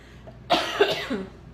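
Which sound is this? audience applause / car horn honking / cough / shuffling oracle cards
cough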